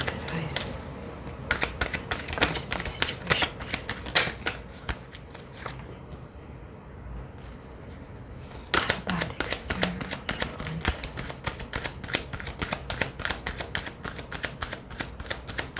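Repeated crisp riffling of cards being shuffled, bursts of fluttering clicks with a brief quieter pause in the middle.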